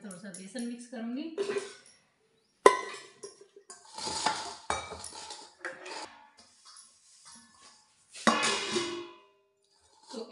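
A spoon scrapes and clinks against a bowl while gram flour is stirred into kadhi batter, with salt, chilli and turmeric added, in intermittent bursts close by as someone talks over it.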